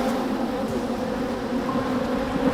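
Bees from an opened hive hum continuously in a dense, steady drone close around the listener, with no pauses and no voices.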